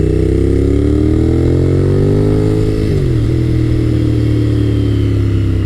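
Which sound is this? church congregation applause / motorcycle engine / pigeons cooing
motorcycle engine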